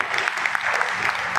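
Steady applause from an audience at a token meeting in Bharatpur, Rajasthan, a dense even patter of many hands clapping at once, close and loud, with no voices over it.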